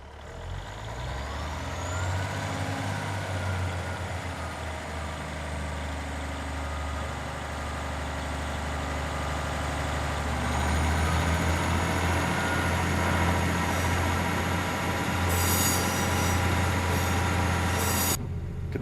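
An AP class train departing Blaenau Ffestiniog in Train Simulator 2018: a loud, steady engine drone with a rising whine as it pulls away, deeper rumble building midway, and brief hissing bursts near the end.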